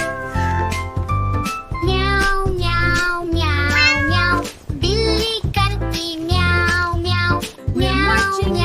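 A sung Hindi children's nursery rhyme over bright music, where a voice imitates a cat's meowing in a rhythmic run of repeated meows.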